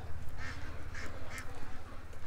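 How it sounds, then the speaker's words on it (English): A little black duck gives three short nasal quacks about half a second apart, close and clear over a steady low hum. "And a little black duck following the geese."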